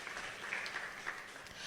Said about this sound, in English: So a round of applause for yourself for being here.